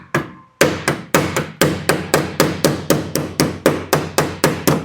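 A hammer strikes metal framing during custom glass installation work, about seventeen sharp, evenly paced blows in quick succession, each ringing briefly and decaying before the next, loud and close with no talking.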